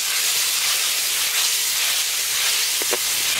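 A little water poured into chilli and turmeric paste frying in a pan for Bengali village cooking, giving a loud, continuous close hiss of steam and sizzle.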